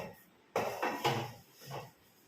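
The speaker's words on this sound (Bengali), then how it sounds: "ঝটপট করে মেজে নিই।" Pots and dishes are scrubbed and washed by hand at home, including an old kadai. A few short, clattering scrapes and knocks of metal come close together, then pause before one more softer scrub.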